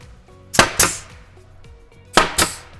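A nail gun fires into a Highland Shaker wall cabinet frame, two pairs of sharp, loud pneumatic cracks in quick succession with a short pause between the pairs.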